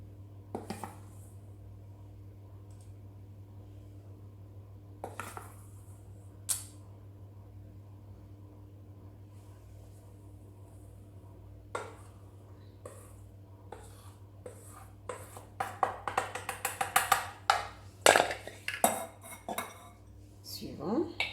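A Thermomix mixing bowl is set into place while making a candied fruit cake: scattered hard clinks and knocks, then a dense burst of close clattering toward the end, with no talking.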